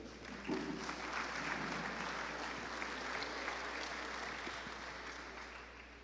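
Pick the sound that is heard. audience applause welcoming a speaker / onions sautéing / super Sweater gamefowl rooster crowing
audience applause welcoming a speaker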